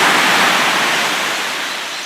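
Sea water at a Tobago beach gives a loud, steady rush of surf, the hiss fading slightly over a couple of seconds as a swimmer takes a dip.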